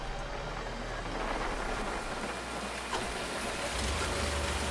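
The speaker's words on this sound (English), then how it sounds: "We have rain in game" Rain in Farming Simulator 19, a dense, even hiss of falling water under a low engine drone, unbroken and moderately loud throughout.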